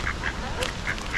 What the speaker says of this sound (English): I've never been that close to a wild duck before.